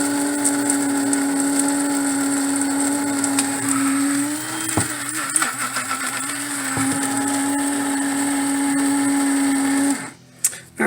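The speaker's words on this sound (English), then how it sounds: "I'm going to go ahead and put this in the coffee grinder really quick" Coffee grinder grinding dried chilies into chili powder, a loud continuous motor whine with rattling blades that runs steadily for about ten seconds, then cuts off with a brief clatter at the end.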